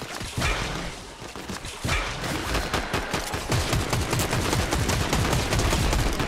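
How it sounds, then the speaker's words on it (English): Gunfire from the Fortnite battle royale video game, a dense ongoing barrage of rapid shots and bursts filling the whole stretch, loud and continuous with no voices. "I'm getting shot at!"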